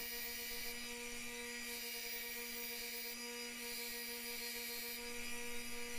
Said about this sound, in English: Then we're gonna get the grinding on it, the disc grinder.